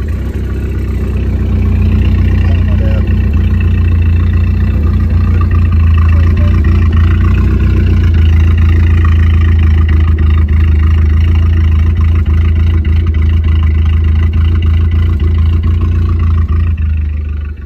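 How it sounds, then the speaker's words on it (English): A custom, lowered Isuzu pickup truck with an exhaust leak runs at a steady idle, a loud, constant low drone that holds unchanged close by, with no talking. "Exhaust leak"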